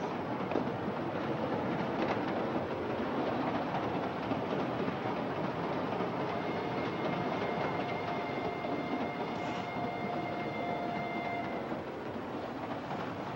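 A train rumbles steadily along the rails, with a continuous heavy roar and faint rhythmic clatter, plus a few thin high whines near the end.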